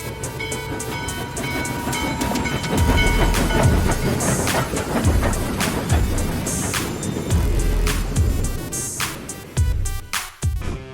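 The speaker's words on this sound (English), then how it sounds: "this train should not be drifting over 3 tracks like this" A train rumbles along the tracks, drifting across three tracks, with a steady rhythmic clatter of wheels over rail joints, loud and close, with sharp metallic clanks near the end.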